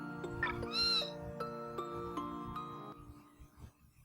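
A short cat meow from an RPG Maker video game, one bright rising-and-falling cry near the start over steady tonal game music that fades toward the end.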